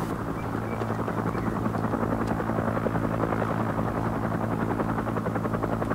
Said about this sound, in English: I have eyes in the helicopter.